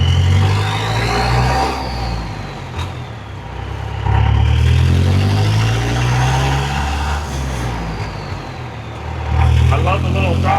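A classic Chevy Apache truck with a diesel engine, driven with a double-clutched manual gearbox, accelerates through gears with a low rising engine note. Brief throttle lifts fall between shifts, and a whine climbs with each pull.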